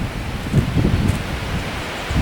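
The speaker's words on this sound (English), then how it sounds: "I also apologize about the wind," Outdoor wind gusting against a microphone in rainy weather, producing a continuous low rumbling buffet with irregular surges, loud and close throughout the short stretch.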